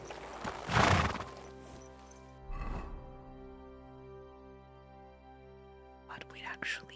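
A horse neighs and its hooves clop in the Kingdom Come: Deliverance 2 video game: a loud burst near the start and another a little later over a steady musical drone, then a few lighter sounds at the end.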